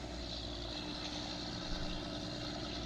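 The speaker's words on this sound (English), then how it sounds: "I'm pretty sure this tractor's a little under horsepower for this thing." A farm tractor's engine drones steadily while pulling a planter across a field, a loud, continuous low rumble with no pauses or talk.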